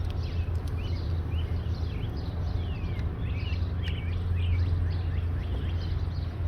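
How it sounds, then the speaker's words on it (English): Birds sing and chirp outdoors in a cold-frame vegetable garden, a scatter of small overlapping calls at moderate distance over a steady low hum, with no talk. "take your time, listen to the bird sounds"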